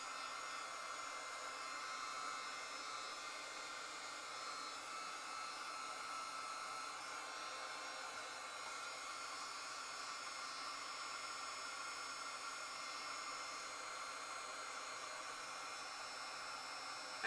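A heat gun blows steadily over drying resin art, a loud continuous roaring hiss that holds an even level for the whole stretch with no pauses and no voices.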